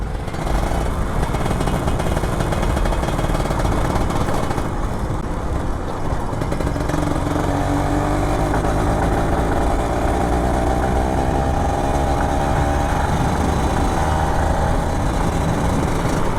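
An old Kawasaki Ninja RR 150 two-stroke motorcycle just after a service, its engine loud and close, revving in a rough, sputtering, uneven way with a hesitant climb in pitch.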